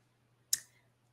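A single crisp computer mouse click, close and isolated against a faint steady hum, during design software work.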